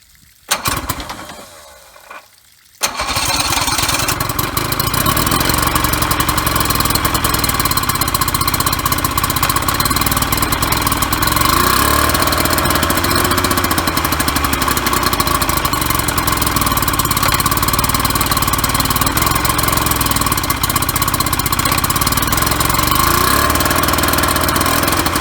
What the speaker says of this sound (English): 1994 motor. Now we'll fire it up and show you that it works.